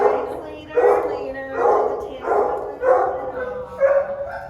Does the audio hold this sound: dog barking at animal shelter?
yes